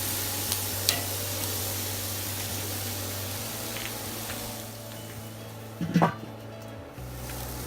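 Steak for fajitas sizzles on a Weber Kettle grill with a steady, moderate hiss, and a brief scrape or clatter of tongs near the end.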